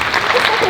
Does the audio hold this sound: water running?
no